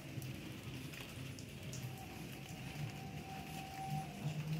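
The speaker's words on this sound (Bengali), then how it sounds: "চলো, বৃষ্টি পড়ছে।" Rain falls steadily outdoors near a garden, a soft continuous patter on surfaces with no breaks, faint and even throughout, no talking.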